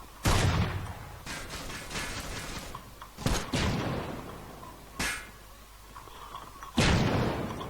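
Gunfire in the online shooter game Zula, four sharp loud shots spaced a second or two apart, each trailing off with echo and rumble, no talking.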